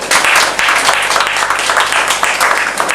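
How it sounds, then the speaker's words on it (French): A crowd applauds a regional director of national education at a partnership event in Daloa, with dense, steady clapping that stays loud and continuous throughout. "je voudrais qu'on l'acclame"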